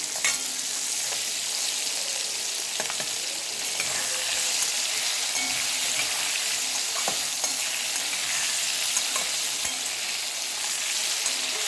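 Potato pieces frying in hot oil seasoned with asafoetida for a cabbage dish, a dense, steady sizzle with occasional stirring scrapes, close and continuous without talk.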